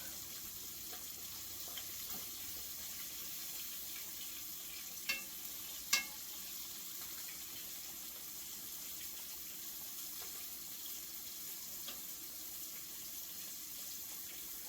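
Crappie fillets frying in hot grease, a quiet steady sizzle throughout with a couple of faint clicks, no talking.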